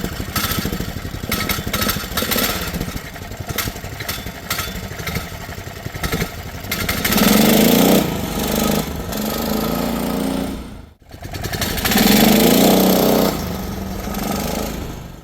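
A Polaris Cyclone ATV with a swapped-in 420cc engine and new clutch weights runs close by, its motor droning and revving up louder in two surges, briefly cutting out between them.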